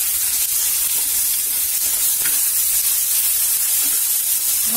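Chopped tomato and onion fry in a pan with salt, giving a steady, loud, even sizzle and hiss throughout, with no talking.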